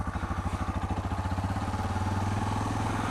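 A Suzuki DR650 motorcycle fitted with a GSXR exhaust pipe rides along a trail. Its single-cylinder engine gives a rhythmic, steady thumping pulse, close and clear, with no talking over it.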